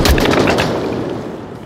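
A single loud, close gunshot in the Onward VR game, a sharp crack that rings out and decays over about a second and a half, with no talk over it.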